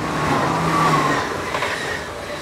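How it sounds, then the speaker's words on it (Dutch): A train approaches a station at Hattemerbroek in the Netherlands during a remembrance event, a steady, fairly loud rolling rumble with a thin wheel squeal rising briefly through the middle, no voices. "deze trein die hier zo dadelijk komt"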